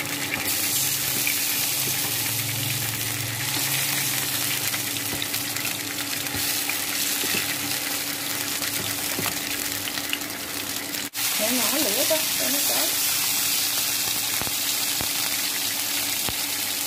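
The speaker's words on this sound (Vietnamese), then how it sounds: "Chiên nhỏ lửa thôi." Tuna pieces fry in oil in a pan over low heat, a dense, continuous close sizzle with crackling spatters throughout and a brief scrape partway.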